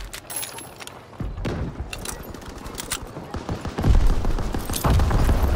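Gunfire crackles in a World War II multiplayer battle in Call of Duty WW2, with bursts of rifle and machine-gun shots, some near and loud, others distant, over continuous battlefield noise.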